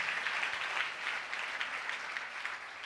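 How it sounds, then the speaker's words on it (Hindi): Steady applause from a congregation during a sermon, fairly faint and distant, continuing evenly for a few seconds with no talk. "जोरदार तालियां बजाएं उस शख्स के लिए"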